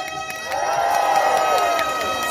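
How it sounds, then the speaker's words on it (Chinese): A crowd of children and adults at a weekend band performance in Tainan, Taiwan bursts into another loud round of shrill screaming and cheering that builds to a peak and then tapers off, with many voices overlapping. "再给妈妈两声尖叫声"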